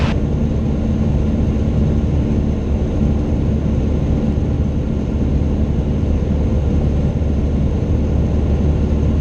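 Cessna light airplane engine droning steadily in flight during stall and landing practice, a loud continuous low cabin rumble with no break, no voices.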